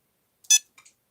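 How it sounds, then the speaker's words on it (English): A handheld game device, a Project Alien re-release, gives one short, sharp electronic beep followed by two faint, quick chirps, close by in a quiet room. "So, you heard that beep"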